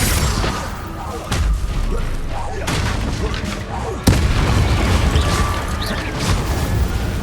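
Spell blasts and explosions in the wizarding game Hogwarts Legacy: repeated booming impacts and crashes in a dense, loud combat mix, with sharp hits punctuating a continuous rumble and voices shouting amid the action.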